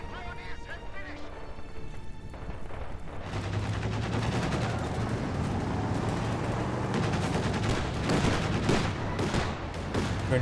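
Battle noise from Company of Heroes 2 with an M15 half-track firing away, steady crackling gunfire and rumbling under a dense wash of game sound, with a commentator talking over it.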